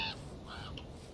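Crow cawing in Minecraft, a single short, faint caw call over a steady background hiss.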